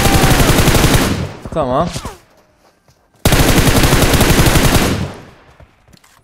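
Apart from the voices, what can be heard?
gunfire in the video game PUBG Mobile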